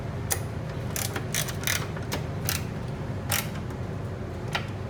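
Bolts on the hood of a 2010-2015 Chevrolet Camaro SS being loosened with a ratchet, a quiet close series of sharp metallic clicks and ticks in irregular bursts over a soft background hiss.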